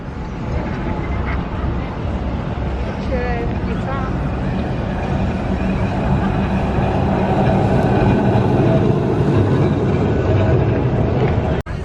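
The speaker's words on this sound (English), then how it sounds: "It's another Blackpool tram." Loud, continuous rumble of a Blackpool tram rolling past along the seafront during the Illuminations, close by and sustained, with people talking over it.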